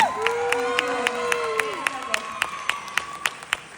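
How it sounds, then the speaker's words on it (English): An audience applauds performers at a dance recital's closing thanks, steady clapping with distinct sharp claps, while a tonal sliding sound rises and falls over the first part. "Please give them a round of applause"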